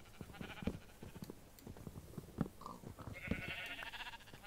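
Sheep bleat in the Minecraft video game, short, faint calls scattered among soft clicks and quiet movement sounds, with no voices.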